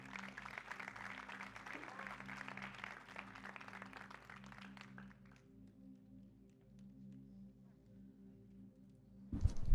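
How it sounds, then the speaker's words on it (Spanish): A church congregation at a Bible study on Ephesians applauds: moderate, fairly distant clapping over a steady electrical hum for about five seconds, fading to quiet hum before a sudden loud bump at the very end. "Dele un aplauso fuerte al Señor"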